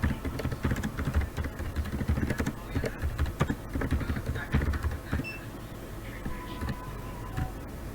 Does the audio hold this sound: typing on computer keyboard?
yes